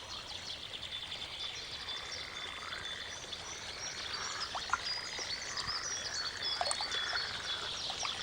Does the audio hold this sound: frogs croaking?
yes